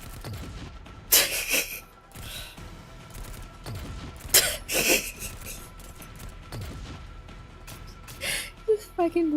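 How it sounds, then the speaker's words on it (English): Rocket launcher fire in the Girls' Frontline game comes as a few separate loud bursts with sharp blasts, spaced several seconds apart, while a person talks between them. "These fucking rocket launches."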